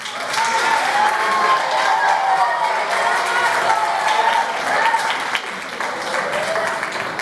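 An audience at an empowerment workshop event applauds a group with sustained, even clapping that fills the room, with some crowd voices mixed in.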